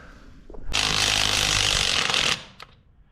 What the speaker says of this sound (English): That wasn't mine, that's a JKUR rolling.